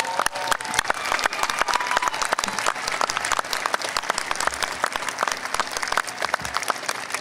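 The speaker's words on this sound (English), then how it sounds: "let's face our graduates and give them a huge round of applause" Loud, steady applause from a large audience honoring graduates at the 2015 LAMC commencement ceremony, thick overlapping claps continuing throughout with no talking over them.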